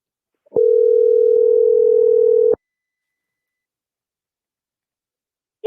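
A telephone dial tone holds steady for about two seconds, loud and clean, then stops, and a brief tone starts again at the very end.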